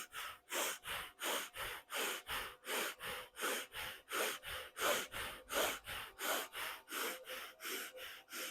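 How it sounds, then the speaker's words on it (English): Breath of fire yoga breathing: about twenty-five rapid, evenly spaced forceful nasal exhalations in a steady pumping rhythm, close and fairly quiet, with no talking. "Again, starting with breath of fire."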